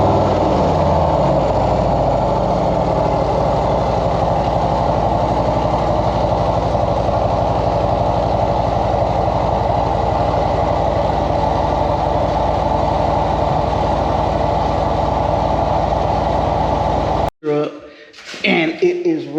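A Harley-Davidson Road Glide motorcycle engine idles with a steady, loud, low rumble close by throughout, then abruptly cuts off near the end, followed by brief scattered handling noises; someone talks over it.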